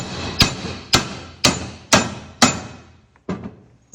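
A hammer strikes a chisel and an old screw driven onto an anti-theft wheel nut, ringing out as six sharp metallic blows at roughly half-second intervals, each followed by a brief decaying ring. The blows are loud and close.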